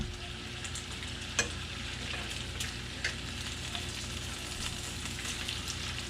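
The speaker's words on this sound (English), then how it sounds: "Now we're going to do a little flip here on the bacon." Bacon sizzles steadily on a hot plate with a constant frying hiss, broken by a couple of sharp clicks and taps as the strips are flipped.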